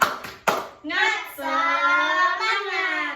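Second-grade schoolchildren in a classroom do the 'tepuk semangat' clapping chant: a few sharp, close claps in quick rhythm, then a drawn-out chanted voice held for a couple of seconds.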